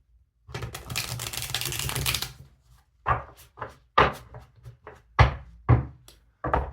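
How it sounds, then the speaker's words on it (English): Tarot cards from the Wild Reflections deck being shuffled up close: a long riffling burst first, then a series of short, sharp slaps and taps as the cards are cut and squared. "So let me just shuffle these up real good."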